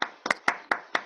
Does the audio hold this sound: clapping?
yes